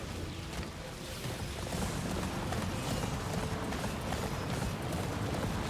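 Horse hooves clip-clop steadily in Attack on Titan 2, a quick repeated clatter of beats carried over a dense, rumbling game soundscape at moderate volume, with no one talking.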